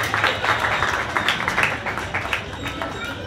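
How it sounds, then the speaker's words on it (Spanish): Audience applause for an award at the Arte Tejupilco 2023 painting exhibition: a dense spread of claps from a crowd in a hall, steady for about three seconds with some voices mixed in. "Denle un fuerte aplauso"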